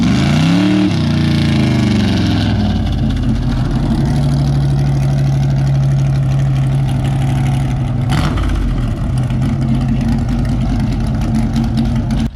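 A car engine, the custom Eleanor-style build called Helleanor, rumbles loudly and steadily at idle with slight shifts in pitch and a brief burst midway.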